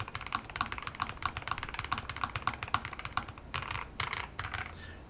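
Steady typing on a Lofree Flow 2 keyboard resting directly on a bare desk with no pad, a continuous run of close, crisp keystrokes with a brief flurry of heavier, faster presses near the end.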